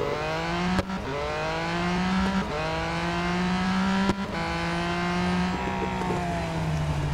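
Engine of the Ford GT Le Mans race car in Real Racing 3, droning loudly and close with strong harmonics, punctuated by several quick gear-shift breaks and rising revs between them, heard alone.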